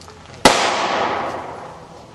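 A .50 BMG rifle fires a 650-grain soft point bullet into six water bottles set back to back outdoors, giving one sharp, very loud crack that decays into a long rolling echo.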